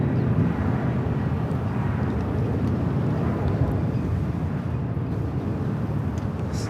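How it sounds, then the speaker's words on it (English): A Boeing 757 sports charter jet departs Los Angeles LAX toward Phoenix, its engines giving a steady, broad roar that holds at a constant moderate distance throughout. "It's a sports charter 757 heading to Phoenix."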